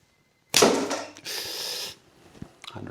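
A mini fiberglass bow from Holiday Archery in Thailand, 20 pounds draw, loosing a 250-grain 30-inch arrow: a loud sharp release with a rattling, mechanical burst, then a steady scraping rush before it cuts off, followed by faint clatter.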